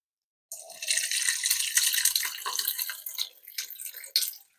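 Melted beef tallow is poured off from a pot, a steady liquid pouring and trickling sound lasting several seconds, close and fairly quiet, tapering into a few drips at the end.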